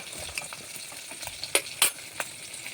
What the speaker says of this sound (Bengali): ওদিকে আবার মাছের মাথাটাও ভেজে নেব ছড়ার জন্য